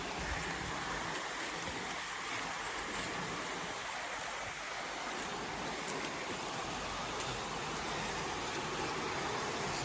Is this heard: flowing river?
yes